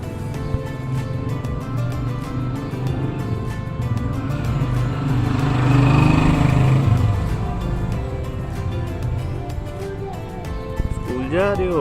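Motorbike engine idles steadily with a small child perched on it, a low continuous drone swelling slightly midway, while people talk over it.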